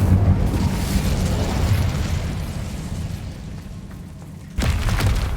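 A fire spell blast in the Hogwarts Legacy video game gives a loud, sustained roaring burst that fills the whole clip, dips slightly near the end, then surges again with a fresh blast.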